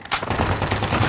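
Dense automatic gunfire from Call of Duty: Modern Warfare, a loud, continuous rattle of rapid shots with heavy low booms, no voices.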